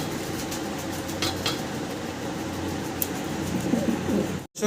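Soft, low cooing of white Mundian fancy pigeons against a quiet room background, with a few faint clinks and a brief dropout near the end.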